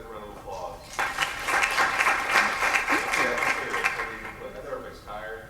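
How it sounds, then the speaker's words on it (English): An audience at a workshop breaks into steady applause that swells quickly and then tapers off, with a little talk at the edges. "Give these guys a round of applause."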